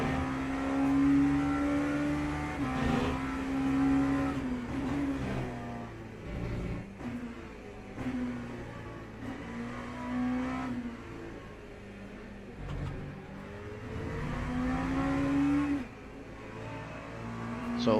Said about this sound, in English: LMP3 on the straight.